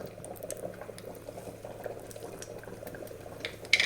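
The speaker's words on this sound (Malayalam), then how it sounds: "കടുക് പൊട്ടത്തെ കടുക് പൊട്ടി" Mustard seeds and dried red chillies splutter in hot oil in a small pan: quiet, scattered pops and crackles sound over a soft, continuous sizzle.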